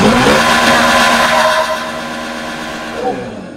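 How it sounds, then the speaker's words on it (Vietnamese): An electric go-kart's sound speaker plays a synthetic engine note meant to resemble a tractor, a loud low rumbling drone with revving swells that fades down midway, then briefly rises again near the end. "Tiếng thứ ba nè. Tiếng này thì hơi giống tiếng máy cày."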